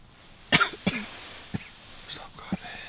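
A few sharp coughs close by, the first a quick double burst, followed by softer scattered coughs and breaths spread over a few seconds.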